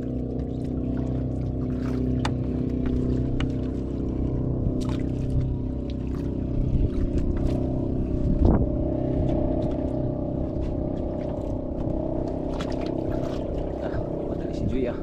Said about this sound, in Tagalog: Daming bangka naglautan.